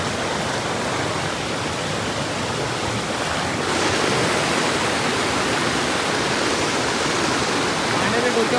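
A waterfall in the hills below Kamandurg fort roars as a dense, steady rush of falling water, loud and close, with no letup.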